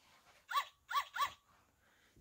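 A puppy gives three quick, clear barks in a row as a storybook sound effect, then goes quiet, with no voice over it.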